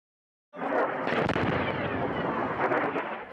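After a brief silence, a loud, sustained rumbling blast erupts and roars on, with cracking bursts layered in, like missile explosions at a distance, from air strikes on ground targets in Yemen.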